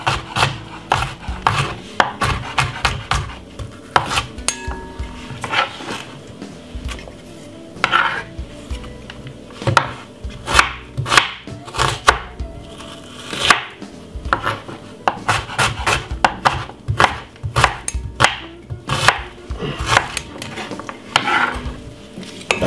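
A knife chops a medium-sized white onion on a board, a steady run of close, sharp knocks and scrapes with short pauses, no talking.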